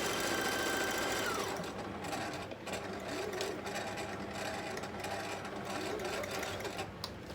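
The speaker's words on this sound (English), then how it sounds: "I'm just stitching that hole closed." Electric sewing machine running steadily to stitch closed the hole in a Christmas tote bag made from cushion panels, a continuous close mechanical whir with a brief pitch change near the start, no talking.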